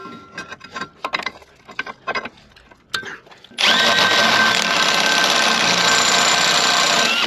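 A drill press bores slowly on high speed through trailer jack steel, starting abruptly as a loud, steady whine with grinding texture that runs to the end, after a few seconds of scattered clatter and a brief spoken word.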